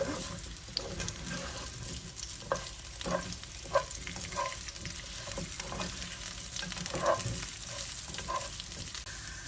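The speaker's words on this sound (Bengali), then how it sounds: "কেটে রাখা কাঁচা আম, এটাকে আমি কিছুক্ষণ কুক করে নেব" Chopped raw green mango cooking in a pan for a mango lentil dal, giving a steady low sizzle with intermittent stirring scrapes and clinks, close up and alone.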